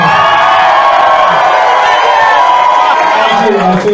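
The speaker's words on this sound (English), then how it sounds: "Loudest crowd I've played to in a long time." A loud concert crowd cheers and whoops continuously, a dense wall of shouting voices close and sustained for the whole stretch, easing only slightly at the very end.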